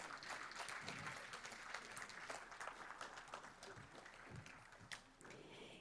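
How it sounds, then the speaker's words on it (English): A faint, steady round of applause fills a school board meeting, many hands clapping together for several seconds at a distance. "And let's give Jesus a big round of applause."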